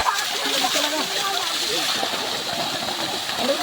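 Cold river water gushes and splashes from pipes in a steady, loud rush with no pauses, while someone talks over it.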